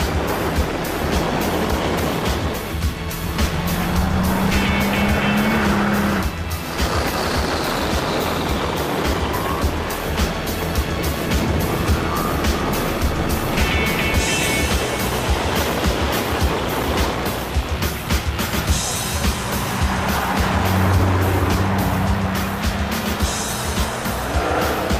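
Mercedes-AMG race car with 670 horsepower and 1,000 Nm of torque, driven at the Goodwood Festival of Speed: a loud, continuous engine roar with rising and falling pitch as the car accelerates and shifts, up close throughout.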